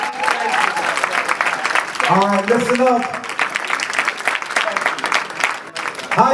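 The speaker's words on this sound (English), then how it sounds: "give another round of applause" A lecture crowd claps and cheers loudly while someone speaks over the applause, which tapers off toward the end.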